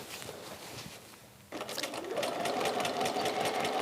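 A sewing machine stitches through a quilt with quilt-as-you-go templates; after a quieter opening the motor surges into a steady, rapid whirring hum that runs to the end.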